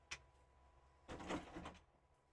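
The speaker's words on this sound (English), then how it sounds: "So I tried shutting the door, but then the cat opened it." A door pushed open by a cat indoors: a brief knock near the start, then about a second of soft rubbing and rattling as the door swings, fairly quiet.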